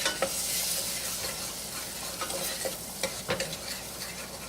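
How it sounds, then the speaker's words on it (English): A spoon stirs spices through melted butter in a pan, making soft scraping taps over a gentle, close sizzle, with no voices. "We'll give those a quick stir."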